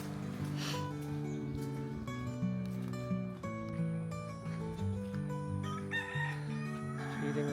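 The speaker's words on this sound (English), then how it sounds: "Little chickens." Chickens in a back alley in Hoi An crow and cluck over one another in a steady, busy chorus, several birds fairly close, with faint ambient sounds beneath and no talking.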